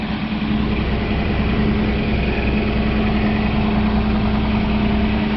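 A 2011 Toyota Tacoma with a new aftermarket exhaust idles steadily, a close, even engine hum with a low drone that holds constant and never revs, and no voices.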